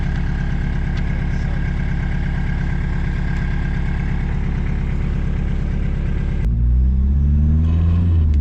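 A diesel MK2 Volkswagen Jetta idles with its muffler taken off, giving a steady, close, loud rumble that shifts into a deeper, uneven chug near the end, with no talk over it.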